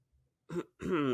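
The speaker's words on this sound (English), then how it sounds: "Clearing my throat." Someone clears their throat, one short rasp and then a longer, rougher one, close and alone.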